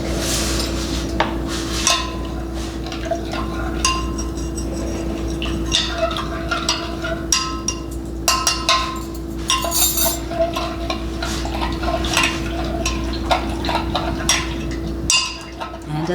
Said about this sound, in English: We're gonna add in our 2 tablespoons of inulin. I'm gonna stir it up nicely.